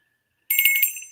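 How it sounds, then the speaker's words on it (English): A small London souvenir bell rings with a bright, high metallic jingle of rapid strikes right after a short silence, close and alone, its shimmering tone decaying quickly. "Your second choice is London, and it's a London bell."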